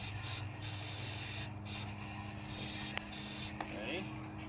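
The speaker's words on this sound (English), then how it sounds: "Do you want to spray some in there?" Starting fluid sprayed into a drift taxi engine: a steady hiss close by, running continuously through the moment with a couple of faint clicks.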